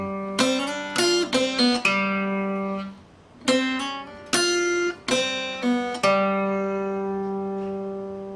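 An acoustic guitar picks the opening seven notes of a riff, crisp plucked notes with sustained ringing tones, played twice with a short gap, clear and close.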